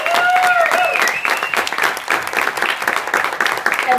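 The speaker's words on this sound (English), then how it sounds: "Let's give a big, huge round of applause for Roberta Kaplan." Audience applause at a Pride press conference, loud clapping that starts strong and thins out into scattered claps, with some voices and cheers mixed in.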